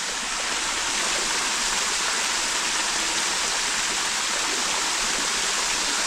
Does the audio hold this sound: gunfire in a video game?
no